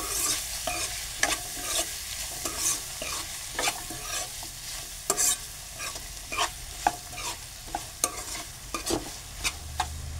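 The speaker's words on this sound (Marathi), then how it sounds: "पण चांगलं ढवळून घेऊया" Spoon stirring food frying in a pan during Indian home cooking, with a steady sizzle underneath and repeated scraping strokes in an irregular rhythm, close and fairly loud, no talking.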